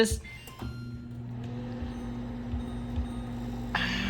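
A microwave oven popping popcorn in a sewn fabric bag hums steadily with a low, even drone, with a few faint clicks and rattles and a brief louder noise near the end.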